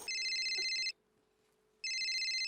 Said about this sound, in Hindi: भिड़े के घर से फोन